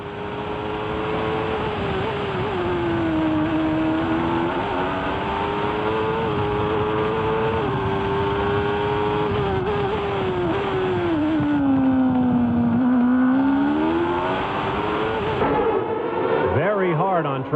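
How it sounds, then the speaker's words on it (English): A 1993 Formula One car at the Australian Grand Prix screams around the circuit, its high-revving engine loud and continuous, the pitch rising and dipping with each gear change and corner, with commentary voices faintly mixed in. "Let's listen as Michael Schumacher puts the car through its paces."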